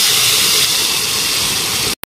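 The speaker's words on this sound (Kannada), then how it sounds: "ಈಗ ಇದು ಒಗ್ಗರಣೆನ ಇದಕ್ಕೆ ಹಾಕೊಂಡ್ಬಿಡಿ ತಂಬುಳಿ" Hot tempering poured into cucumber tambuli gives a loud, steady steam-like hiss for about two seconds, then cuts off abruptly.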